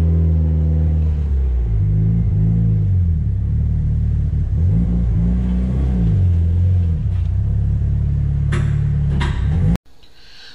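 A Mitsubishi Evo 8 engine revs repeatedly at high load on a dyno, loud and close, with rising and falling pitch sweeps before cutting off abruptly near the end.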